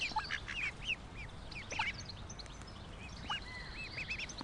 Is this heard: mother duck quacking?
yes